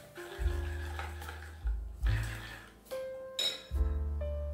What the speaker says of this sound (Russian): Сюда вливаем кефир комнатной температуры и перемешиваем